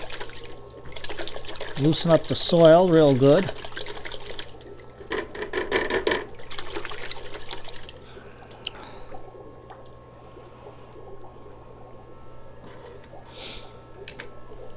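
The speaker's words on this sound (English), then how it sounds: "I'm going to stick it into my bucket of water." A crape myrtle root ball is dunked into a bucket of water, giving a brief splashing slosh while a person talks nearby, followed by quieter dripping.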